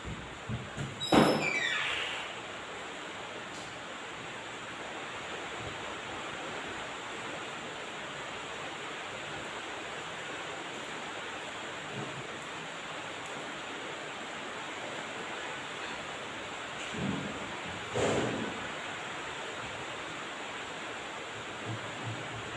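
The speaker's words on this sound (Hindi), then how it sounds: "बारिश चालू हो गई।" Rain beginning to fall, a steady broad hiss that holds throughout, with a few louder knocks or rattles near the start and toward the end, heard indoors at moderate level.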